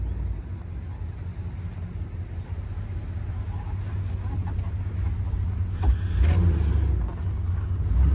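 A 1969 Chevrolet Chevelle convertible's engine pulling away in drive, a low steady rumble that swells as the car accelerates, heard from inside with no speech.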